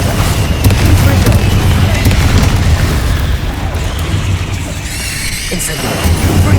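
Spell explosions cast in the video game Hogwarts Legacy, including fire and blasting curses, make a continuous loud barrage of booms and bursts with squealing magical whooshes layered on top, close and dense with no pauses.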